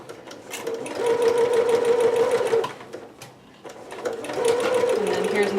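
A sewing machine runs a basting stitch 5/8 inch from the top edge of thick fabric for a dress. It makes two close, loud bursts of rapid mechanical whirring separated by a short pause, with no talking.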